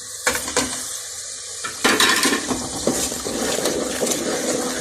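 Spices tipped into frying onions for a chana dal pulao, a close sizzle in the pan with metal spoon clinks and scraping stir strokes, a few sharp knocks early on, no voices.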